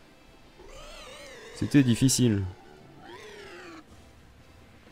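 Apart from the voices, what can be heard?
cat purring and meowing in the room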